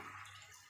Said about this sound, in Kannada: ಇವಾಗ ಸ್ವಲ್ಪ ನೀರು ಬಿಡ್ತೀನಿ ನಾನು